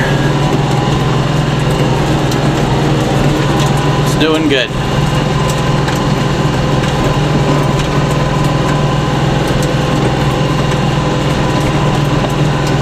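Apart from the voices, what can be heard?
tractor engine running while driving over bumpy pasture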